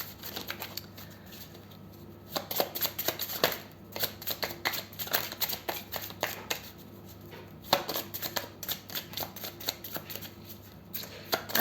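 Tarot cards are shuffled by hand in quick, crisp riffling bursts that repeat steadily over several seconds, fairly close and with no voices.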